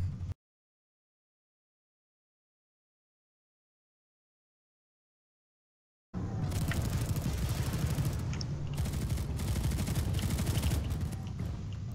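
Heavy gunfire rattles in PlanetSide 2 after several seconds of silence, rapid overlapping bursts and automatic fire forming a loud, sustained barrage.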